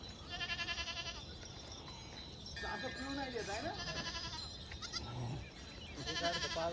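Sheep bleat at close range while a ewe nurses her lamb in an outdoor flock, several wavering calls rising and falling amid people talking nearby.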